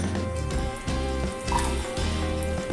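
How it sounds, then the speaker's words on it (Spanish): Chopped onion and peppers sizzling steadily in hot oil while sautéing vegetables for vegetarian meat-style empanadas, a continuous close frying crackle with soft stirring scrapes and no voices. "un poquito de aceite para ayudar a rehogar los vegetales, la cebolla, pimientos"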